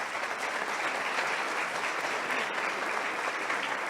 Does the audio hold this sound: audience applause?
yes